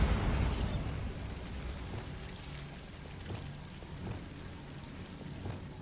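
A Bombarda blasting spell goes off in Hogwarts Legacy with a loud, close boom that rolls into a long rumbling, rain-like wash of debris as it fades.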